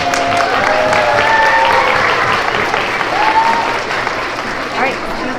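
A loud, sustained round of applause from a crowd of PreK to third grade students and families at a school Character Education assembly, dense clapping mixed with cheering and children's voices throughout.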